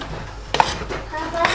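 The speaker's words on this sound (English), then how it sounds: "So you mix it well." A utensil stirs okra soup in a pot, giving a couple of sharp metallic clinks against the pot amid soft wet stirring, close and brief.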